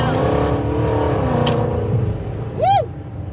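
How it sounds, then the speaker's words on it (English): A Dodge Challenger with a Hemi shaker engine rumbles deeply and revs nearby in a loud, sustained growl, with a voice letting out a rising-falling whoop near the end. "he came back with this Dodge Challenger with a Hemi shaker"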